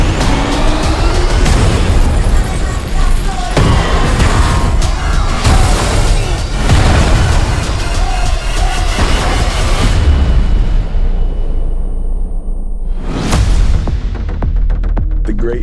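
Explosions from the Fast X movie trailer, heavy booms and bursts repeated across a loud, dense mix of crashing effects and pounding score, with brief sharp hits near the end.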